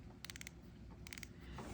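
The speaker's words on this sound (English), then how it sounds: "Nice clicking spool tension knob." KastKing Angry Shark fishing reel spool tension knob turned in two short runs of four or five crisp clicks each, very quiet and close, with faint background hiss.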